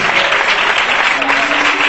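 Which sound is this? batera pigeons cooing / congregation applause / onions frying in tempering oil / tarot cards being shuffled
congregation applause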